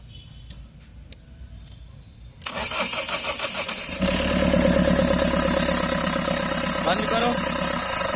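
Mahindra XUV500 engine cranking and firing up, with a sharp starter whir that settles into a steady, loud idle drone close to the vehicle; people talk briefly before it starts.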